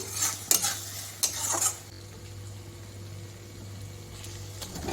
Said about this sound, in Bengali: এবার আমি এর মধ্যে আলুটা তুলে দিই একটু